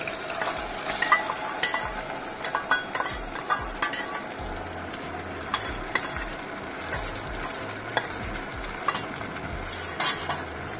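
Spinach paste going into a pan of Kashmiri lotus stem (nadru), with steady stirring scrapes, utensil clinks against the pan and a low sizzle, close and continuous, no talking.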